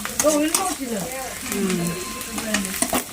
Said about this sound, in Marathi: शेजवान चटणी घालून तो म्हणजे परतून घेणार आहे